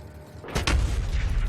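Artillery in the factory-building game Factorio fires a single deep booming shot that rolls into a sustained low rumble, loud and close.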